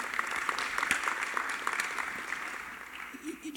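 An audience at a film festival Q&A for a silent film claps in a continuous patter that fades toward the end, with some voices mixed in.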